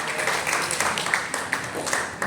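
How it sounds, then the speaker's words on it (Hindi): An audience at an awards ceremony applauds to welcome a guest, a dense, moderately loud patter of many hands clapping that carries on without a break. "एक बार जोरदार तालियों के साथ स्वागत करते हैं श्री आनंद सिंह जी का."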